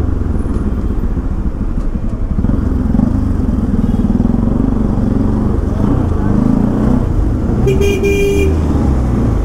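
Busy road traffic at a signal in India, with car and motorcycle engines rumbling close by and scattered horn toots cutting through, including a sharp honk near the end, with voices in the street noise.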